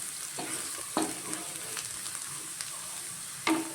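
Potato curry with coriander powder added is stirred in a pan, the spoon scraping in a few distinct strokes over a steady close sizzle.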